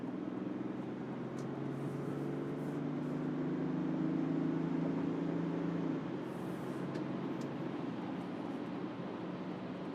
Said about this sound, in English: road noise obviously is a little bit higher than it would have been around town